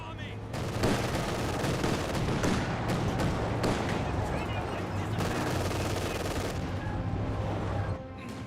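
Machine gun fire from an MG42 in the strategy game Company of Heroes 2, dense rattling bursts and scattered shots throughout a busy battle, with a commentator talking over it.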